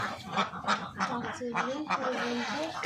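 Ducks on a farm flock give a rapid series of loud, honking quacks close by, several calls in a row with overlapping voices.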